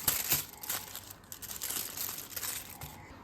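Aluminum foil crinkles and rustles continuously as it is folded around sauced barbecue ribs, close and moderately loud with soft crunching pulses.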